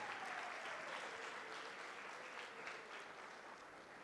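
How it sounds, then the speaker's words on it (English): Sustained applause from an audience at an arts festival show, a dense steady clatter of many hands filling the whole stretch at an even level, fading very slightly toward the end. "just one more round of applause"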